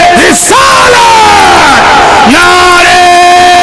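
Crowd at a religious speech chanting slogans in unison, loud sustained massed voices that rise in repeated call-and-response shouts, close and overpowering.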